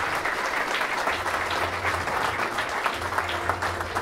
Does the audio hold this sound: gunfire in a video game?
no